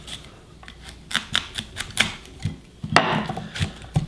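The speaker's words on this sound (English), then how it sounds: "you just wanna cut out the core" A small knife cutting the core out of a cauliflower head, a series of close, crisp crunching snaps and slices at an irregular pace, sharper toward the end.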